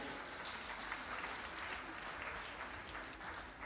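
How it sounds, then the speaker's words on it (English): An audience at a Canadian event celebrating women breaks into sustained, dense applause, many hands clapping steadily and fairly close throughout, with no speech over it. "Just clap for yourself"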